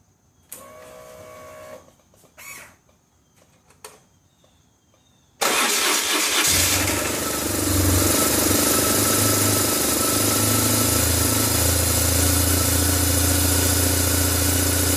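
A 2003 BMW R1150GS Adventure motorcycle engine cranks and fires at about five seconds, then settles into a loud, steady idle that runs to the end, after a few quiet clicks and handling sounds.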